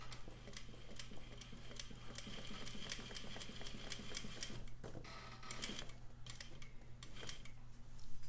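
A sewing machine stitching lines on paper, a rapid even run of needle ticks for several seconds with a brief pause midway, close and steady.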